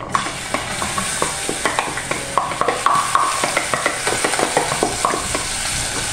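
Chopped onion fries loudly in olive oil with a dense, crackling sizzle. Quick, rhythmic scraping of a spoon against the pan repeats throughout.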